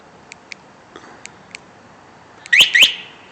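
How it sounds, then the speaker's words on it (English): An aftermarket eBay alarm on a Honda SR 50 scooter gives faint clicking ticks, then two sharp, loud chirping beeps close by, alone with no speech. "You can also hit one button that will flash it and beep it 15 times for locating it"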